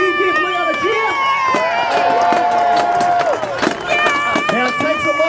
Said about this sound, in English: Can you give Leon a cheer?